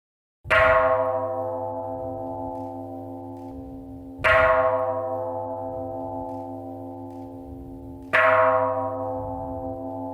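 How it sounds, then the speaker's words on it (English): A large bell struck with a mallet at an International Day of Conscience ceremony rings out three times at even intervals, each loud clang fading into a long, humming resonance. "Please raise up the mallet all the way up to the sky to show your wish to the whole world. Ring the bell."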